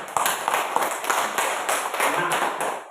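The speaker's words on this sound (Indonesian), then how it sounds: "Tepuk tangan." A classroom of pupils claps for a group after its presentation, a dense, continuous patter of many hands lasting a few seconds, with voices mixed in.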